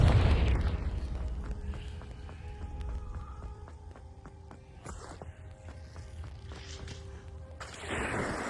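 In a Hogwarts video game, a Confringo spell goes off as a deep booming blast at the start, fading into a low ambient rumble with faint tinkling effects and a softer burst near the end.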